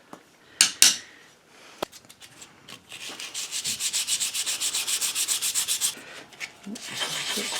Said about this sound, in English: I can actually probably sand all that out.